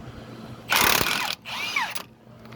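Impact wrench with a socket working on the engine of a 2006 Toyota RAV4 4x4 V6, two loud close bursts of buzzing, rattling hammering separated by a brief pause.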